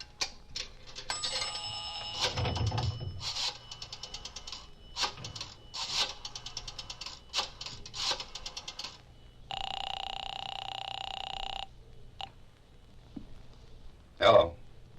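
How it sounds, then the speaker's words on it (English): A telephone number being dialed in a drugstore phone booth, a run of clicky mechanical pulses and bursts followed by a steady electronic tone, then a sharp click, close and fairly loud. "I looked up the Roxmore Apartments in the book and dialed the number."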